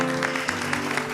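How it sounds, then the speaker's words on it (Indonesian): Brief burst of clapping from an audience, cheering on two young people at an event about traditional Kuningan kendang drumming, with a steady hum underneath and no talk. "Kita kasih tepuk tangan untuk mereka."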